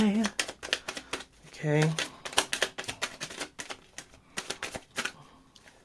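A deck of tarot cards is shuffled in quick bursts of riffling slaps and flutters, close up, broken by short gaps, with a voice speaking briefly between shuffles.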